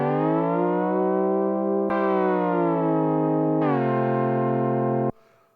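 A Dreadbox Nymphes synthesizer plays a loud, sustained harmonic tone whose pitch slides smoothly between notes, with two sharp steps and a glide before cutting off abruptly near the end.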